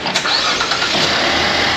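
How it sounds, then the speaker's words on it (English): A Chevy Equinox with a 3.6L engine turned over with a key, the starter cranking briefly before the motor catches and holds a loud, steady running roar close by. "Beginning engine restarting sequence now."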